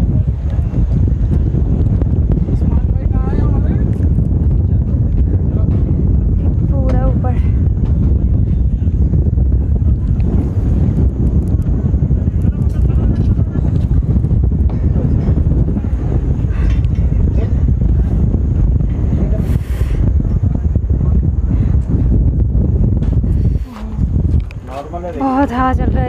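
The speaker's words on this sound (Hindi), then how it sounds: "बहुत हवा चल रहा है इधर, बहुत मजा आ रहा है एकदम ऊपर।" Strong wind buffets the microphone on a hilltop in the Anantagiri hills near Vikarabad, a constant loud roaring rumble with people talking underneath throughout.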